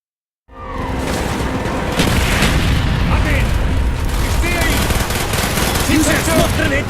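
Heavy mortar explosions and booming gunfire from an Arctic battle in Call of Duty: Black Ops, a dense, continuous roar of blasts and rattling fire starting abruptly and staying loud throughout.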